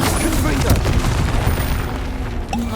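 Confringo fire spells explode during combat in Hogwarts Legacy, producing a dense, continuous rumble of booming blasts that overlap with no clear gaps and stay loud throughout.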